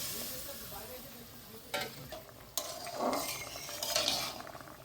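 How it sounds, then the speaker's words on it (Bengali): Fried pointed gourd pieces tipped into a pan of poppy-seed sauce and stirred, giving a steady sizzle with scraping strokes and a couple of sharp utensil clinks. "ভেজে রাখা পটলগুলো দিয়ে দিচ্ছি।"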